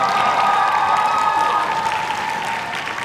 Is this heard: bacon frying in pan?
no